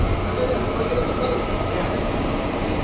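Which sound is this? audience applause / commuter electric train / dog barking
commuter electric train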